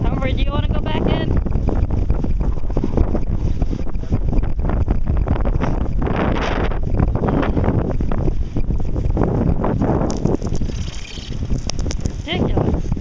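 Strong blizzard wind roars and buffets the microphone outdoors in the snow, loud and continuous with gusty swells, while people speak intermittently over the blustering noise.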